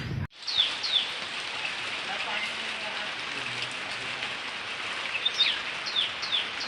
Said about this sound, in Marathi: हे बघा गारा पडायला सुरुवात झाली आहे बघा